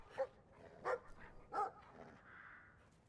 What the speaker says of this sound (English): It's a big, ugly dog.